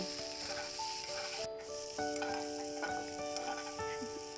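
A spatula stirs mixed vegetables and peas for chowmein in a pan, scraping and rattling in a steady rhythm over a low sizzle, with a few sharper knocks against the pan and no voice.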